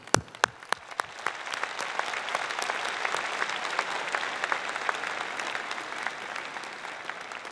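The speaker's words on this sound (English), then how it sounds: "I think we need to have a special round of applause" Audience applause at a university convocation ceremony, starting with a few scattered claps and swelling into a steady, full round of clapping from a large crowd.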